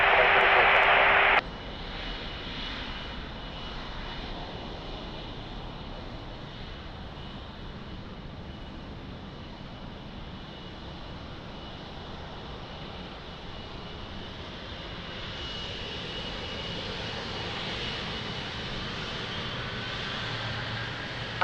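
Boeing 777 airliner at Lisbon Airport gives a steady, distant engine roar and rumble that swells slightly later on, after a brief burst of radio-like noise at the start.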